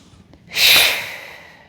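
A single strong breath drawn in during a qigong exercise, a sharp rushing inhale that swells quickly and then tapers off slowly, close and alone with no talking.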